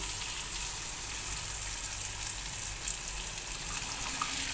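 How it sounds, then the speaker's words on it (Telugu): Tender green beans frying in hot oil in a pan, giving a steady, close hiss and sizzle that runs evenly without pause. "ఇది కొద్దిగా ఫ్రై అయిపోతే అప్పుడు మనం ఇందులో బీన్స్ వేసేసుకోవచ్చు అన్నమాట"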